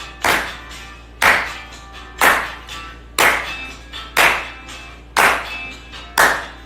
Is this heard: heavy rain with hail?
no